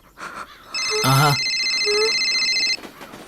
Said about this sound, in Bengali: ফোনটা ধরবি না।